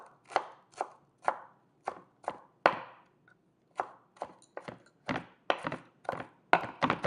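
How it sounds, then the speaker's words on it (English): A kitchen knife chops food on a board while making okonomiyaki, a Japanese savory pancake: a steady run of about fifteen crisp, close chops with short pauses between them, with no one talking. "chop it up a little bit"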